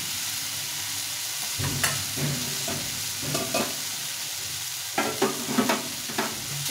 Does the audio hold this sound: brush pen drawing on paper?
no